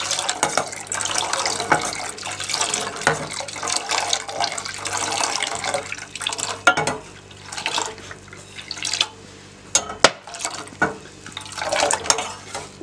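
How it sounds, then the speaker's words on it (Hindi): Steady watery swishing and splashing with light clinks as Kashmiri pink tea is whisked continuously in a pot, with no talking. "एक मिनट से मैं इसको मुसलसल फेंट रही हूँ"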